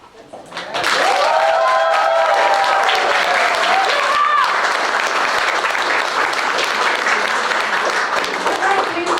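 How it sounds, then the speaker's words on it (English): Audience at a summer showcase bursts into loud, sustained applause that swells within the first second and holds steady, dense clapping with scattered cheers and voices mixed in until the end. "please let's give one more round of applause"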